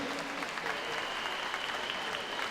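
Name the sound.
audience applause at swimming regionals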